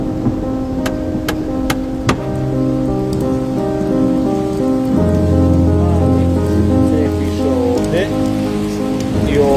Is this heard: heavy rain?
yes